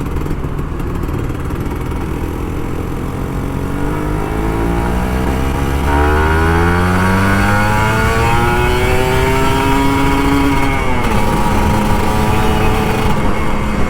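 Kawasaki Ninja RR 150 two-stroke motorcycle revving loudly and continuously, its pitch sweeping up and down through repeated throttle blips over a steady engine drone, close by with no talk.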